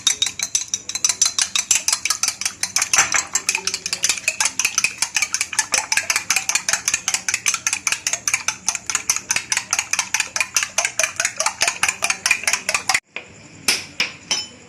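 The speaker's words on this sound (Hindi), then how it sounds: "2 अंडे हैं मेरे पास, इसको अच्छी तरह फेंट लेते हैं।" Two eggs are beaten briskly with a fork against a bowl, a fast, even run of sharp clinking taps close by that stops near the end before a few final knocks.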